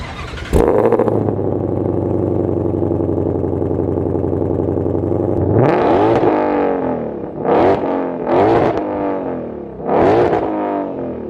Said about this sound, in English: let's do a little before clip of the car revving